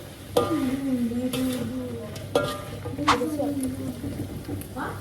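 Chicken pieces sizzle as they fry in a pan for a home-cooked Ramadan meal, a soft crackle running steadily beneath close, continuous talking.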